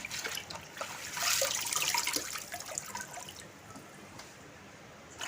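Water draining and trickling off freshly washed greens (kalmi shak) lifted from a bowl, a soft splashing and dripping wash of sound, fairly quiet and close, without talk.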